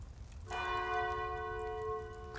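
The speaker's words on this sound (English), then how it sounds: "the chimes of a neighboring church struck the 4 quarters" A neighbouring church's chime bell strikes once for the quarters, a clear metallic tone that rings out and hangs with a long sustain over a quiet background.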